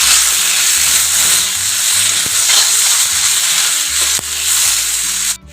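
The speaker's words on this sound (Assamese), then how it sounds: "বিলাহীখিনি অকণমান সময় ভাজি লওঁ" Tomatoes frying in a pan with salt for a small-fish and mustard gravy. They give a steady, loud sizzle and hiss throughout, with occasional stirring clinks and no talking.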